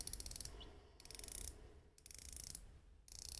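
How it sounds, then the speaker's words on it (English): A 120-click unidirectional dive watch bezel, the WatchDives WD6105, being turned: close, quiet bursts of rapid fine ratcheting clicks in several runs with brief pauses between them, no voices. "Very solid bezel, nice and smooth. 120 click unidirectional."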